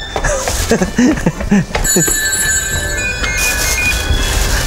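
A telephone rings with a bright electronic trill, preceded by someone talking briefly; the ringing continues steadily to the end.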